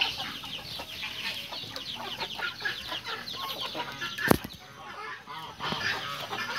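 Agitated hens of the giant Índio breed cluck busily in a farm setting, a steady nearby stream of short overlapping clucks and calls, with one sharp louder squawk partway through.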